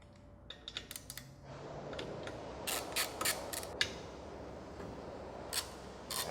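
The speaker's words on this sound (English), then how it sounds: "take a 10 millimeter socket and loosen the brush motor mounting bolts" A 10 millimeter socket wrench loosens the brush motor mounting bolts on a Tennant 1610 floor machine, giving brief close ratcheting clicks and creaks over a low background hum.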